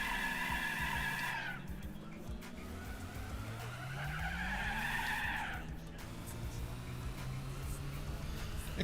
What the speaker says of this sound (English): It could just be regular wheel spin from low revs.